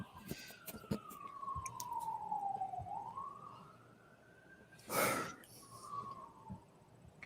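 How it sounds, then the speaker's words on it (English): An ambulance siren wails in a residential neighborhood, a single long sliding tone at moderate distance, interrupted by a louder close rustling burst and faint background noise. "Somebody's got an ambulance."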